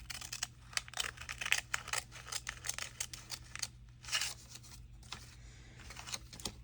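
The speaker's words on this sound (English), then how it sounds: "I think I'm going to just trim this straight across." Scissors snip through junk journal page paper, trimming it straight across in a string of crisp, close cuts with brief pauses and light paper rustling between strokes.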